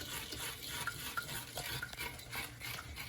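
A pot of dark rum syrup made with Bacardi Gold being stirred steadily, a soft continuous scraping swirl with faint clinks, close and moderately quiet, no voices.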